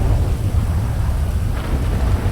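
Rain and thunder in the video game GTA 5, a heavy steady downpour with deep low rumbling thunder rolling underneath, loud and continuous, with no voices.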